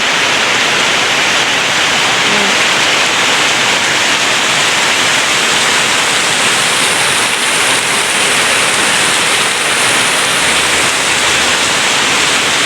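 Sudden heavy summer downpour on dry ground near a house, a dense, steady roar of rain filling the whole stretch without a break, loud and close.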